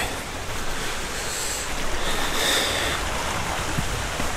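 A river flows on a frozen winter morning in mountain hunting country, a steady, close rushing wash of water that holds even and unbroken throughout, with no voices.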